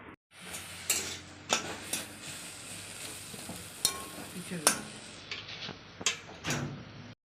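Leafy greens, freshly washed, sizzle and hiss steadily in a pan in a home kitchen, with intermittent scraping and stirring clatters of a spatula punctuating the frying throughout.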